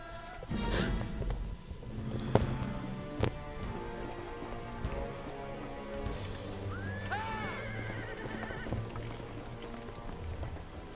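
A horse whinnies amid clip-clopping hooves and a busy soundscape in the video game Prince of Persia: The Sands of Time, with rising squeals and steady background music.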